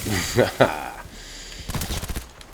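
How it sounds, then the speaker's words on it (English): A grenade detonates in Cyberpunk 2077, its broad crackling blast and rumbling debris rising after a short stretch of talk and lasting about half a second. "Detonate that grenade."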